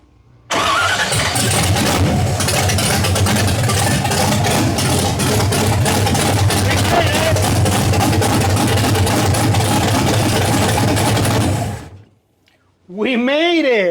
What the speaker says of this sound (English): So basically now the engine is more stable. It keeps running by itself.